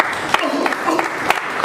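A church congregation claps together during a worship service, a brief burst of scattered hand claps that sounds moderately loud and slightly distant with some crowd murmur.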